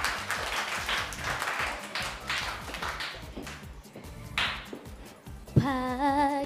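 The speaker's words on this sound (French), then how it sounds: "Je vous demande d'applaudir très fort" Audience clapping at a summer music show greets a singer in uneven bursts that thin out toward the end, before a voice with musical accompaniment begins singing.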